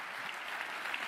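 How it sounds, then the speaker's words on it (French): Audience at a high-level panel clapping for a president, a steady dense round of applause from a crowd, moderately loud and continuous with no speech over it. "Et s'il vous plaît, applaudissez-le, joignez-vous à moi."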